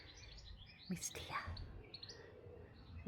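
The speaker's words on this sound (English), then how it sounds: "She's listening to the birds." Garden birds near an allotment greenhouse giving a few faint, scattered chirps and tweets against quiet background, with a brief rustle in between.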